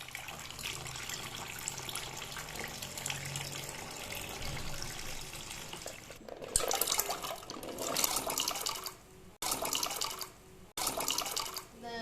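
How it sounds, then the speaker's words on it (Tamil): Indian gooseberries are rinsed under a running kitchen tap before being made into pickle. A low background rumble gives way to louder bursts of gushing, splashing water that stop and start several times. "நெல்லிக்காய் எடுத்து வச்சுருக்குறோம்மா, அதை வாஷ் பண்ணிட்டு வந்துடலாம்."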